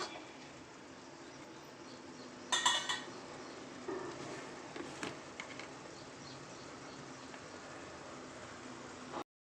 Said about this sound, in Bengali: সব পেস্টগুলোকে দিয়ে এবার ভালো করে নাড়িয়ে চাড়িয়ে নিচ্ছি।